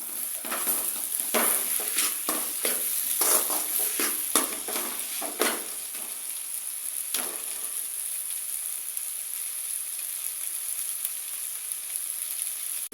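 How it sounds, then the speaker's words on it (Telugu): Potatoes are stir-fried in a kadai, the hot oil hissing constantly while a spoon scrapes and clinks against the pan in quick strokes over the first half, then the sizzle carries on alone. "ఉల్లగడ్డను అందులో వేసి 1 నిమిషం పాటు కళాయి పెట్టాలి, వేయించాలి."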